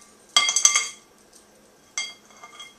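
A spoon clinking against a bowl while mixing sticky homemade pizza dough, a short cluster of bright metallic taps, then a quieter second knock after a pause.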